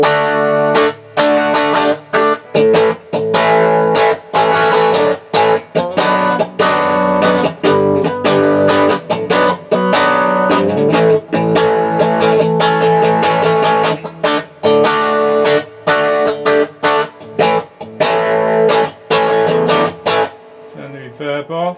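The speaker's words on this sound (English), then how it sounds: "Turn the reverb down a bit, which is that one." A guitar plays through a homemade spring reverb effect circuit with the reverb set lower, chords struck repeatedly in a steady strumming pattern with short ringing tails, loud and up close.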